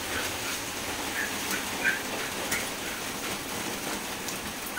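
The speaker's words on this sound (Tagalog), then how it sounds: "napakalakas ng ulan ngayon" Heavy rain pours steadily on a pig farm, a dense, constant hiss with scattered drop patters throughout. A dog can be heard faintly in the background. No voices are heard.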